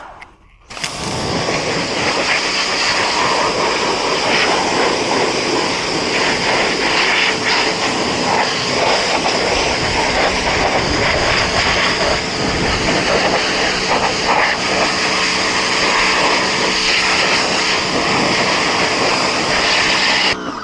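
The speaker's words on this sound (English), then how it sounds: "Told you I was having problems with my pressure washer." Pressure washer with a troublesome pump used for motocross bike prep, running loud and steady for about twenty seconds as a constant hissing, droning roar, close by, starting abruptly after a brief quiet.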